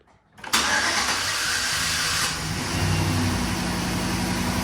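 A 2011 GMC Sierra pickup's engine, just fitted with new spark plugs, gives a brief crank, then fires and settles into a loud, steady idle up close with a slight rev toward the end.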